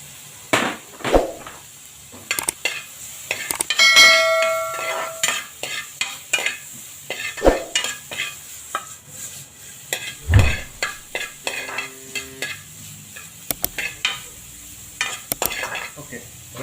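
Carrot, sweet corn, salt and pepper sizzle in a pan while a utensil stirs and scrapes, giving irregular clinks and knocks over a low frying hiss, close and clear.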